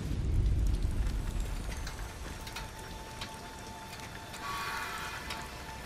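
Rain falling in the Mafia video game, a dense steady patter with heavier low rumble at the start, continuing evenly with a faint tonal hum beneath and no talking.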